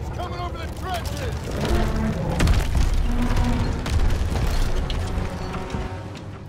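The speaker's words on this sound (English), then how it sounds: "Friendly tanks coming over the trenches!" Friendly tanks roll over trenches in the Call of Duty WWII battlefield: a loud, continuous low rumble with deep booms and mechanical clatter, and shouting voices over the din.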